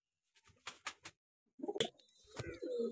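A few soft, low pigeon coos sound close by, short and throaty, followed by brief rustling and a faint murmur.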